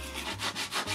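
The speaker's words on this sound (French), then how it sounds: "Un peu de mastic, un petit peu de ponçage et c'est bon." Filler being sanded on a fiberglass cowl for an RC plane, heard as about four quick back-and-forth rubbing strokes, close and fairly loud, with no voices.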